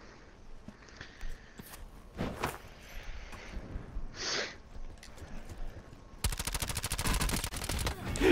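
Gunfire from the video game Blackout: a few scattered, sharp shots early on, then a loud, sustained burst of rapid automatic fire crackling nonstop through the final seconds.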